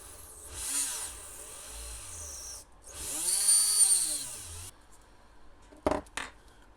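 Small hand drill boring a pilot hole with a 0.5mm bit in a 1/200 scale HMS Hood model part, giving a few brief whirring bursts that rise and fall in pitch, separated by quiet gaps, with a couple of sharp clicks near the end.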